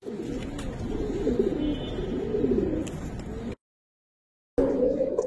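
Giribaz pigeons in a loft coo in a low, steady, warbling drone that carries on continuously, breaking off for a moment of silence before resuming, with faint background noise.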